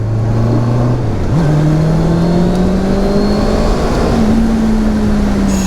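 A 2023 Honda CBR650R sport motorcycle's 650 cc engine revving while riding, a loud close steady drone that dips briefly then climbs smoothly in pitch as it pulls through the gears, with no talk.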